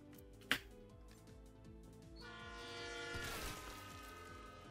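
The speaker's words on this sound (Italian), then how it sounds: "Verrà tritato come ragù dal treno della metro." A subway train in Borderlands 3 rushes past with rhythmic clickety-clack rumble, a sharp metallic hit near the start and rising squealing, horn-like tones as it swells louder, with no voices.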